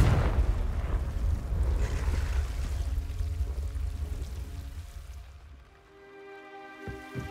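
Casting the Confringo fire-blast spell in Hogwarts Legacy gives a rushing, roaring whoosh that swells and then fades, followed by a few sharp magical crackles near the end.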